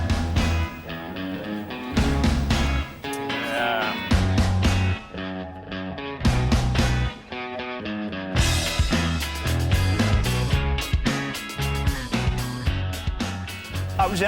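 A song plays as a full band track with driving drums, guitars and vocals, loud and continuous throughout.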